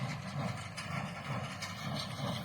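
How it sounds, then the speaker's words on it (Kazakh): A tractor engine drones steadily with a low mechanical rumble and rhythmic thumping of a running hay baler, moderately distant. "Трактор пресс деп жатыр"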